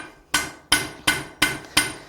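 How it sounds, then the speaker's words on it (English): Hot steel is hammered on an anvil while forging a fire poker's taper, six loud ringing metallic strikes in a steady rhythm about a third of a second apart, close and alone. "I'm hammering up here right where my taper started"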